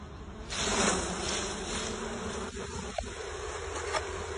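A swarm of honey bees that flew off nucleus hives buzzes in a steady, fairly faint drone outdoors, with a few brief clicks and knocks.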